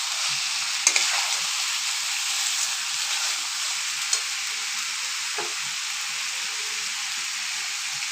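Fried broccoli and potato added to a pan of oily spice paste, a steady close sizzle with a few sharp knocks and scrapes of a spoon as it is stirred, no talking.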